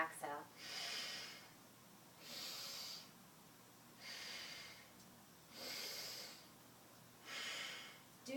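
Slow, controlled nasal breaths during alternate nostril breathing in a yoga class, with five soft, even inhales and exhales spaced about a second and a half apart, close and quiet.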